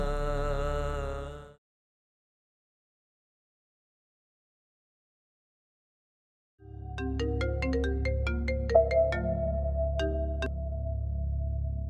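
A phone's melodic ringtone signals an incoming call, sounding in a short burst, then silence for several seconds, then a longer run of bright chiming notes.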